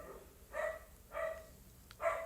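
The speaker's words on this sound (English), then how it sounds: "Please don't mind this dog that is barking" A dog barks three times in even succession, faint and somewhat distant indoors, with no talk.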